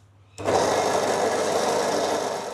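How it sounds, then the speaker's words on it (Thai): A drill press bores a hole on a homemade support base. The motor whirs up abruptly after a short quiet moment, then holds a loud, steady, close high-pitched drone that eases slightly at the end. "เราใช้สว่านเจาะช่วยจะแม่นยำแล้วก็ ดูสวยกว่า"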